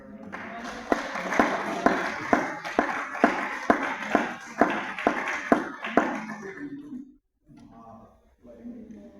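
A church congregation applauds in quick, rhythmic claps that continue steadily for several seconds, then stop abruptly as a voice and quieter murmuring carry on.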